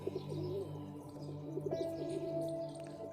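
A Parwazi flying pigeon at a pigeon club coos close by in soft, throaty, repeated calls with a steady background hum.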